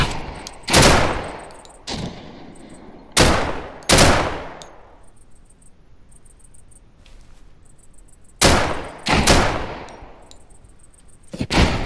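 Heavy-recoil weapon fire in the video game Deadside: loud separate gunshots in short bursts, each trailing into a ringing decay, with quiet gaps and faint clinks between volleys.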